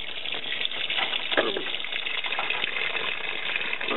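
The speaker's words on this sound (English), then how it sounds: "Oh, look at that water going in." Water gushes and splashes steadily into a Whirlpool washing machine tub, a continuous rushing sound that stays close and fairly loud throughout.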